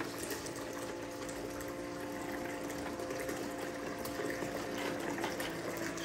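A 12-volt bucket dredge pump draws water and gravel with a continuous, steady rushing and gurgling hiss that runs without a break for the whole stretch. There is no talking.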